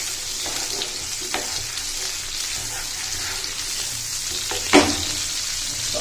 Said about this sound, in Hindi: इनको हम इसमें करेंगे फ्राई अच्छे से।